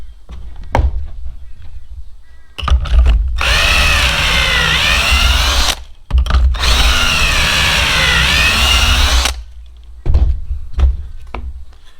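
Power drill boring pocket holes in wood with a pocket-hole jig, two loud sustained bursts of whining drilling with brief clunks and handling knocks between and after them.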